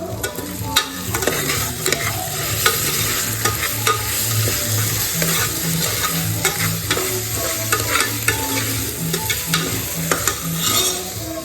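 Onions frying with ginger garlic paste for a beef dish, a loud continuous sizzle close up, broken by repeated stirring scrapes and clinks of a spoon against the pan.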